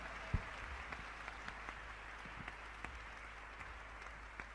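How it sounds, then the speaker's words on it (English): Audience applause at a speech event, soft and somewhat distant, a thin patter of claps with a few sharper individual claps rising above a steady hiss. "With a warm round of applause, please."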